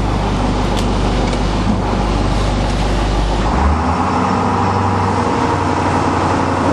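A 2009 International school bus on a farm runs with a loud, steady engine rumble, its low drone shifting partway through as it strains to pull away, with no voices.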